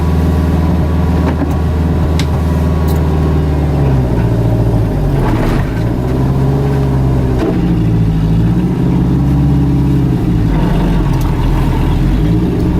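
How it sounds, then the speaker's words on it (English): A Mercedes G-wagen restomod engine runs loud and close while driving slowly on an icy road, with a steady mid-range drone and several brief rises in revs. "spin her around the block, give her a little quick ride"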